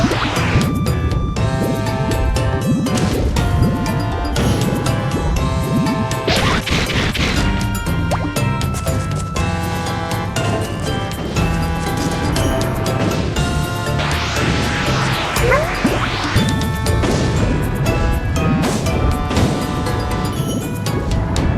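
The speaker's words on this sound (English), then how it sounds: "we once again get to use Yoshi as a projectile and blow them all apart" Yoshi thrown as a projectile in the Yoshi and the Mysterious Book game, smashing rocks apart in a cave: loud repeated crashing and cracking impacts layered over constant bright game music.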